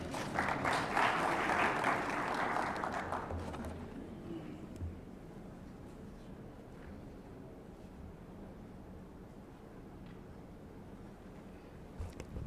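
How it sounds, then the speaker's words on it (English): Conference audience applause at an awards event, loud and dense for the first three seconds, then fading into a low room murmur. "Another round of applause for the content and the timekeeping."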